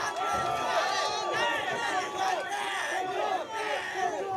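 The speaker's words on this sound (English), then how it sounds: "Listen to this crowd now." A packed UFC arena crowd roars and chants during a heavyweight fight, forming a loud, sustained wall of shouting voices with rising and falling cheers.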